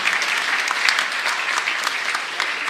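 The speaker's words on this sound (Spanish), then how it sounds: "fuerte aplauso para los dos, 33 años" A congregation at Mass in a parish church gives loud, sustained applause for a couple's 33rd wedding anniversary. Dense, even clapping from many hands fills the space without a break.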